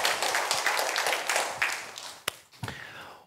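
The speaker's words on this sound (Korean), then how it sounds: "하나님께 영광의 박수 올려드리겠습니다." A Korean church congregation gives a round of clapping during Sunday worship, a steady patter of many hands for about two seconds that thins out into a few scattered final claps.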